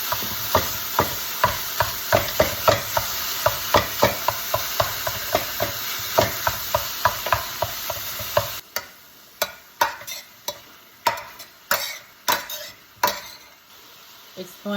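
Ground beef sizzling in a pan for beef stroganoff while a meat chopper strikes and scrapes it in a steady rhythmic series, then sizzle drops away and slower, sharper utensil knocks continue, close and without speech.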